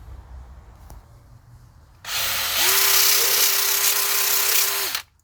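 An electric drill spins up and runs steadily for about three seconds while linishing a part from an FPV Falcon's Harrop supercharger engine, giving a loud, close whirring grind with a sustained tone before it stops abruptly.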